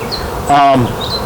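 Honey bees buzz around beehive boxes during a strong honey flow, a steady close drone that swells briefly louder at mid-point over faint background hum.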